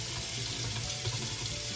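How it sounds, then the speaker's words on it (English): Tap water running over rice being washed in a kitchen sink, a steady close hiss and splash of flowing water, continuous with no talk. "And I'm just gonna wash it, running under the water here."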